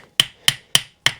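Four sharp metallic taps, evenly spaced, as a brass hammer knocks the ring gear off a Willys Jeep Dana axle carrier, each strike ringing briefly and decaying before the next.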